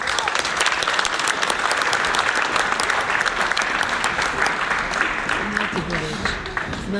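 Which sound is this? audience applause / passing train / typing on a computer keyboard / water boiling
audience applause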